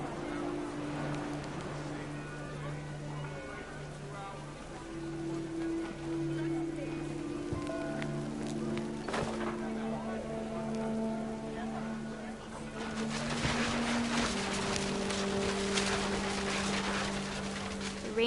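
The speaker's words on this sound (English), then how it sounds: "The rain came down in buckets then" Rain pouring down in the video game What Remains of Edith Finch, a continuous hiss of heavy rainfall layered under sustained musical tones that swell louder toward the end.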